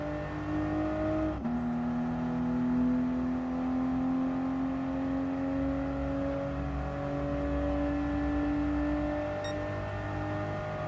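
A Toyota Supra race car in Gran Turismo Sport holds a sustained, even engine whine through a final lap at Fuji, with one quick shift early on before the tone climbs slowly and steadily.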